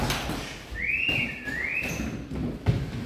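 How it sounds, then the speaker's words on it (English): A whistle sounds during a group exercise class, giving two rising and falling tones in quick succession over a steady room hum, with a soft thud just after. "That was a good whistle"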